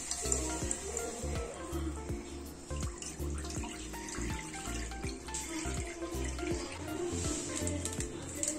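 Water is poured into a pan for two packets of Maggi noodles in a home kitchen, a faint trickle with scattered drips and light clinks.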